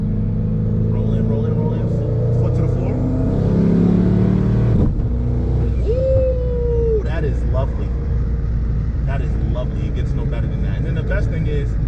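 A twin-turbo Dodge Hellcat with about 2000 hp and a dog box transmission roars loudly, its engine revving up under load. It cuts off abruptly for a shift and then pulls hard again, with a brief rising whine.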